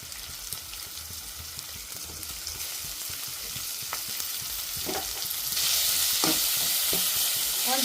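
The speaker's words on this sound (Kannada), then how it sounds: "ಉಳ್ಳಾಗಡ್ಡಿ ಕೆಂಪಾಗೋ ತನಕ ಒಂದ್ ಸ್ವಲ್ಪ ಫ್ರೈ ಆಗಬೇಕು" Onions fry in a pan for a vegetable curry, a steady close sizzle with occasional stirring scrapes that grows louder and brighter toward the end, with no talking.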